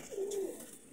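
A teddy pigeon gives a single soft, low coo lasting under a second, close by and alone.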